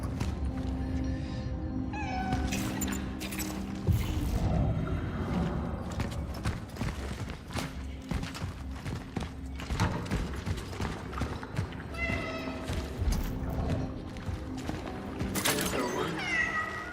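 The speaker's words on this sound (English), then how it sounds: "Oh, there's the cat." A cat meows repeatedly in the video game Cronos: The New Dawn, short rising cries over dense game ambience, music and footsteps, with someone talking over parts of it.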